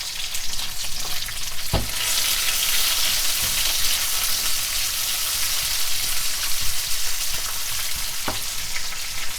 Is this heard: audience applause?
no